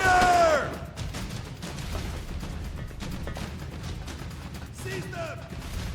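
Gunfire in the video game Sand Land, heard as a steady rattle of scattered shots and impacts after a loud opening burst, with brief voices speaking near the start and end.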